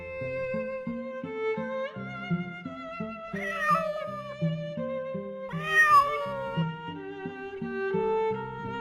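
Over a repeating, stepping melody, a pet cat gives two long, wavering meows several seconds apart, clear and fairly close.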